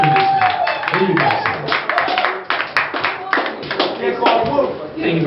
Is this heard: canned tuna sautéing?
no